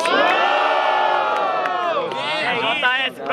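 A crowd at a rap battle cheering and yelling for a rapper, a loud sustained roar of shouts and whoops with some voices standing out, swelling and dipping slightly near the end.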